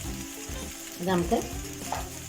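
Spoon scraping and stirring a spicy egg pasta mixture in a pan, a soft sizzle running underneath with a few louder scrapes near the middle, close and fairly quiet with no talking.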